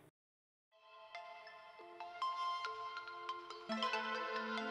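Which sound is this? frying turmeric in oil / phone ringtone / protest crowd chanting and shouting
phone ringtone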